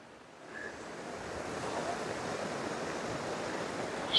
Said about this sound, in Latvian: mēs jau esam atraduši ūdenskritumu. Viens reku viņš tur lejā tek.